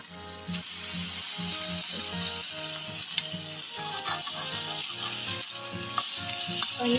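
Paneer cubes fry in a pan for chilli paneer, crackling and sizzling nearby with repeated stirring scrapes and clinks, while a low tonal hum runs underneath.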